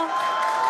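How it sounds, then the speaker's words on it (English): Excited crowd at a SpaceX Starship Flight 4 launch, a steady wash of cheering and applause heard briefly at moderate distance, with a faint tone running through it. "you can hear the crowd is very excited about it"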